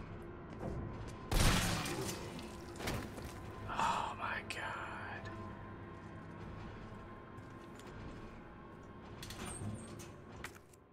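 A single sharp, loud shotgun blast from Resident Evil 3 lands early, followed by quieter clanks and scattered game noises under faint low talk.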